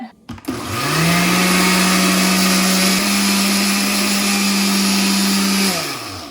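A blender whirs steadily for several seconds, blending egg yolks with lemon juice, kosher salt and black pepper for homemade hollandaise; loud and close, it spins up quickly and winds down at the end, with no talking.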